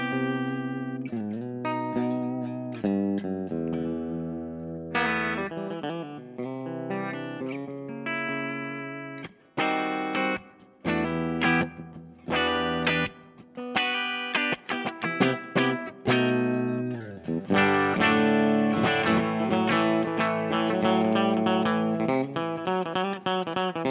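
Squier Paranormal Esquire Deluxe electric guitar played clean through its standard humbucker, with strummed chords and picked notes ringing out in a steady, close phrase, broken by short pauses, with no voice over it.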